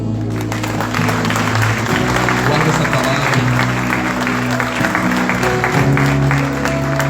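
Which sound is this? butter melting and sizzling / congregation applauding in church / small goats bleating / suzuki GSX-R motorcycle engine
congregation applauding in church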